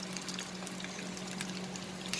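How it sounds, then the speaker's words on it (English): A cup of water poured into a pan of cooking mango chutney, a faint steady trickle and splash running continuously for a couple of seconds with no voices. "Add a cup of water"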